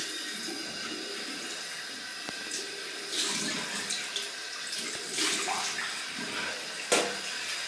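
Cold water runs steadily from a bathroom tap into a sink, a continuous splashing stream with a few louder surges, close by and without talk.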